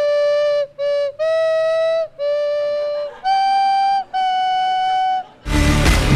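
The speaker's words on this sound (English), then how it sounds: "This is called a nose whistle." A series of sustained, tonal nose whistles, six or so held notes with short gaps, ending in a burst of noisy breath.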